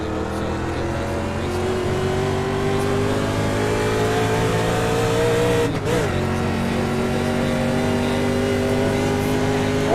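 Stock cars roaring off together at the green flag of a 40-lap Firecracker 400 preliminary heat, a steady dense engine drone that holds loud and even throughout, with a brief dip midway.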